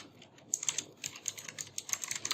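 Rapid, uneven keystrokes on a computer keyboard while code is typed, close and crisp, arriving in quick bursts with short pauses against a quiet room and no talking.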